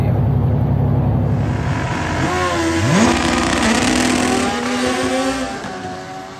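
A drag race motorcycle launches hard during a test run at a track, its loud engine climbing steeply through several quick upshifts before the roar fades into the distance, with no voices.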